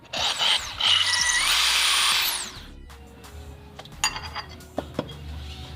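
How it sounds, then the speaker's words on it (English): Power drill boring through ceramic tile with water sprayed on the surface, a loud steady high-pitched grinding whine for about two seconds, then quieter scraping and a few sharp clinks. "maybe have somebody spray the water on the tile while you're drilling."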